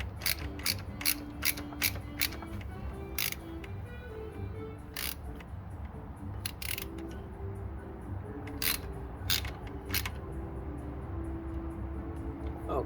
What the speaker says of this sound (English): I'm gonna use my baby ratchet.